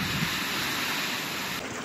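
Heavy rushing floodwater after a downpour in a rain-soaked backcountry town of Brazil's Northeast, a loud, steady broadband roar that fills the whole stretch, close to the microphone with some wind buffeting and no talking.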